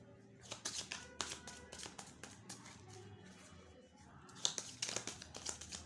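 Tarot cards handled and drawn from a deck, with soft taps, flicks and papery crinkles in an irregular run, quiet and close, with a brighter flurry of card snaps near the end.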